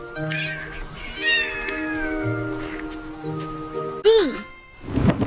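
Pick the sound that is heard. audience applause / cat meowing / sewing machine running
cat meowing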